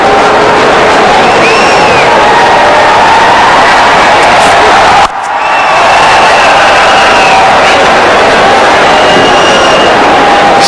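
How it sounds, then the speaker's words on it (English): A large cricket crowd at Gaddafi Stadium in Lahore roars and cheers continuously during a Pakistan versus West Indies one-day international, with whoops and whistles rising above the din, dipping for an instant midway before swelling again. "it's good to see that crowd is appreciating here and enjoying this game"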